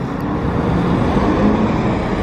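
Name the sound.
sports car engine and exhaust in Monaco street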